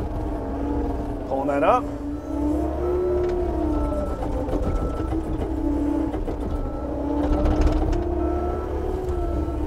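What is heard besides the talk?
skid steer loader operating and backing up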